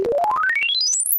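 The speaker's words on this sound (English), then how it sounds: "if you sweep a synthesizer tone across the range, you get a sound like this." A single synthesizer tone glides smoothly upward from low to very high pitch over about a second, steady and loud, with no other sounds.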